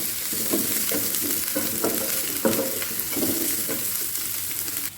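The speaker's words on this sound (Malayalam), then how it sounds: "കുറച്ച് ചെറുള്ളി, അതുപോലെ തന്നെ പച്ചമുളക് ചേർത്ത് കൊടുക്കുന്നുണ്ട്. നന്നായി ഇളക്കി കൊടുക്കാം." Shallots and green chilies sizzle steadily in a hot pan for a beef dry-roast, with a spoon scraping and stirring in a loose repeating rhythm over the constant hiss; close and fairly loud, no voices.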